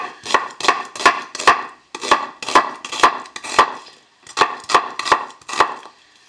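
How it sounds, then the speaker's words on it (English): A knife chops onions quickly on a cutting board in rhythmic runs of three or four strokes, with short pauses between groups, close and clear. "do not engage in romantic fantasies while you're chopping onions"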